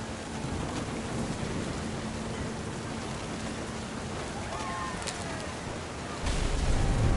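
Steady rain and distant rumbling thunder in the video game What Remains of Edith Finch, a continuous hiss that swells louder near the end, with a faint voice beneath.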